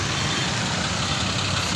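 A goods vehicle arriving at a goat farm to load goats, heard as a loud, steady engine rumble with broad noise and no pauses.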